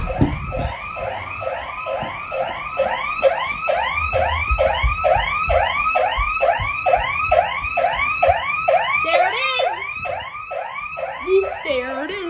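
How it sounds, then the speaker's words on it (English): An ADT SafeWatch Pro 3000 home security system sounds its siren, a loud, rapid, repeating whooping wail cycling many times close by, then breaking off into a few different electronic tones near the end. "It's an instant alarm."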